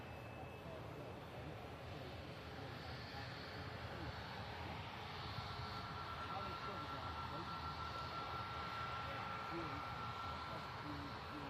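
A Helvetic airliner on a Swiss flight to Milan produces a steady, distant jet engine roar that stays even throughout, with a faint whine above it.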